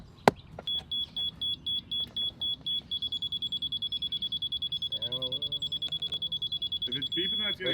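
Rapid electronic beeping from a laser level receiver, a steady high tone pulsing quicker and quicker, with outdoor concrete slab forming work noise and brief talk underneath.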